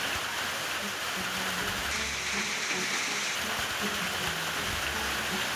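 Hail and rain fall steadily during a hailstorm in Tamil Nadu and Karnataka, a dense, even patter with a faint murmur of voices underneath.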